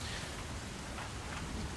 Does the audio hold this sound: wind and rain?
yes